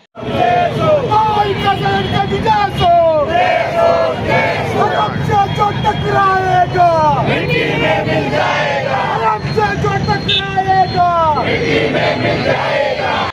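A large crowd celebrates an election win for the Maha Vikas Aghadi candidate at Park Chowk, a continuous loud roar of cheering, shouting and chanting voices that stays dense and close throughout with no pauses.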